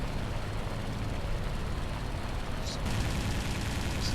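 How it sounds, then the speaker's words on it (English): Machine-gun fire from a Macchi MC.202 fighter in War Thunder, a dense rattling burst running under steady engine noise, with a brighter crackle near the end. "What I do here is just fire a few bullets there to maybe harass him a little bit"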